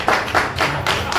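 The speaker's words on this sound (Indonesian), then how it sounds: "tepuk tangan dulu buat Om Gaus." An audience gives a brief burst of clapping at an evening event, a few quick, close hand claps in a short scattered rhythm.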